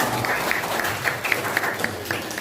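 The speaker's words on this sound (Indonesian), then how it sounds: "Ya, boleh tepuk tangan dong buat teman-teman" Audience applause for friends in a classroom presentation setting, a steady patter of many hands clapping at moderate volume with sharp individual claps standing out, no talk over it.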